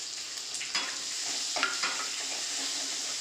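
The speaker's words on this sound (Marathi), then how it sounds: "जिरं हे परतून झाल्यावरती कढीपत्ता आणि लसूण" Cumin, curry leaves and garlic sauté in a pan for mini batata vada, with a bright continuous sizzle and a few soft spatula scrapes close by.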